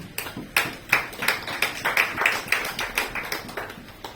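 A church congregation clapping together in steady rhythmic unison at a French-language service, a brisk run of regular claps roughly three per second, fairly loud and close, with no talking.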